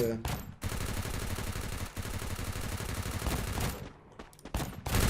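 Rapid bursts of gunfire from the video game Free Fire Max, loud and dense, pouring out almost continuously with a short gap near the middle and choppier shots toward the end.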